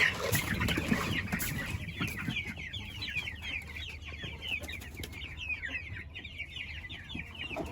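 A flock of chickens, including blue laced Wyandottes, clucks continuously and busily up close in a coop as feed is poured on the ground, with overlapping murmuring calls and scratching, and no talking.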